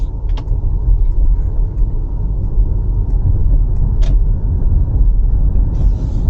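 A 2022 Mercedes-Benz EQS on the move, with a steady, loud low road rumble and tire roar that runs throughout, plus a few faint ticks near the end and no speech.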